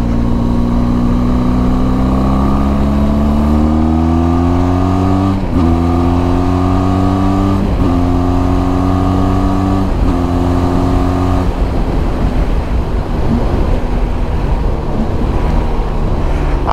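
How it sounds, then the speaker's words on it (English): A Benelli TRK 502 X adventure motorcycle engine revs loudly and close up, pitch climbing in repeated steady blips before settling into a rougher, noisier rumble, with no talking. "I hope you can hear that noise from the bike."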